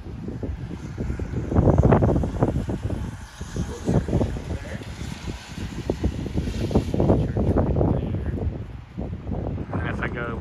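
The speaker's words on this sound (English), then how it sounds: "It's windy." Strong blizzard wind gusting across an apartment balcony, buffeting the microphone with loud, rumbling, uneven bursts while people talk over it.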